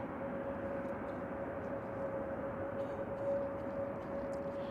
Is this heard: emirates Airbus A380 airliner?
yes